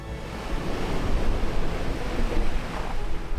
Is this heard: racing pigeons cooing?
no